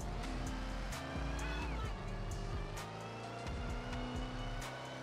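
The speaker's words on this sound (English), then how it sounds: "Man, this Hellcat sounds good as hell." Rumbling Dodge Hellcat exhaust in the GTA game, a loud, sustained engine growl rising and dropping in pitch through gear changes, heard up close with occasional sharp clicks over the steady roar.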